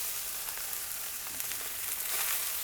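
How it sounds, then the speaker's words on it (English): Dry-aged and wet-aged beef steaks sizzle in a hot cast iron pan, a steady close hiss with scattered crackling pops, heard alone without talk. "Oh yeah, listen to that sizzle."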